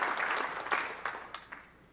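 Audience applause at a Microsoft PowerPoint conference session, a scattered burst of clapping that is fairly faint and thins out into a few individual claps before fading.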